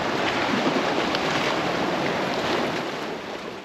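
Ocean waves surge through rock formations on the Galapagos coast, a loud, continuous churning wash of surf with wind noise and no voices.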